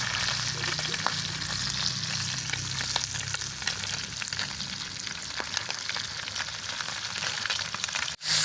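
Steady, loud sizzling and crackling of fish frying in a hot pan, continuous throughout with no talking, ending in a brief clunk.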